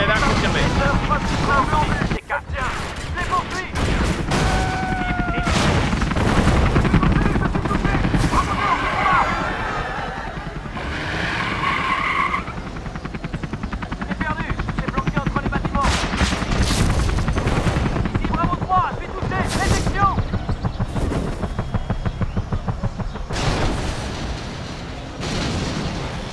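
Helicopter squadron firing Stinger missiles at GLA enemies in the strategy game Command & Conquer Generals: repeated loud gunfire bursts and explosive booms with rotor-like rumble, intermittent across the scene, with radio-style voices speaking between volleys.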